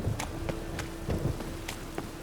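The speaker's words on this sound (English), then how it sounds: "Didn't look like rain." Steady rain patters throughout with scattered sharper drops and occasional low rumbles of a storm in the game The Witcher 3, even and moderately quiet, with no voices.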